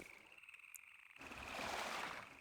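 Nighttime outdoor ambience from the video game Half-Life 2 at Black Mesa East, a steady high-pitched cricket chirr over soft background hiss, swelling into a louder wash of wind and surf partway through.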